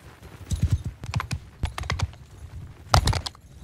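Cavalry horse hooves in the video game Mount & Blade II Bannerlord, an irregular clatter of several close, sharp clip-clop strikes in quick clusters over a quiet background, with no speech.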